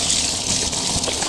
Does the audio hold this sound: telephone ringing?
no